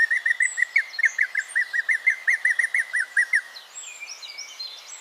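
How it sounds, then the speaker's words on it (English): A Hooded Pitohui, an orange-and-black songbird of Papua New Guinea's dense jungles, gives a rapid series of about a dozen clear, bright chirping notes in an even rhythm, loud and close, trailing off into softer twittering. "Meet the Hooded Pitohui, native to the dense jungles of Papua New Guinea. At first glance, this songbird looks completely harmless"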